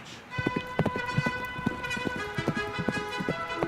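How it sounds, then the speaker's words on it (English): Rapid horse hooves clip-clop in an uneven trotting rhythm, fairly close and clear, with a voice faintly under them. "Oh, that's a good horsey."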